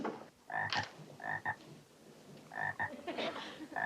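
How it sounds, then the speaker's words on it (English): A bullfrog croaks in a few loud, close, throaty bursts, in two clusters separated by a short pause, over a quiet background with no speech. "Apparently, one of you has seen fit to adopt our bullfrog."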